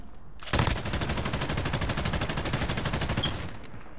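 Sustained light machine gun fire in Call of Duty: Modern Warfare, a rapid, evenly spaced stream of shots that starts abruptly and holds loud and close for about three seconds before tailing off.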